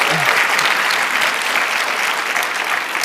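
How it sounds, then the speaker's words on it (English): A large audience at a school district state-of-the-schools address applauds students, a loud, dense, continuous wash of clapping that holds steady throughout. "Can we give our students a round of applause one more time?"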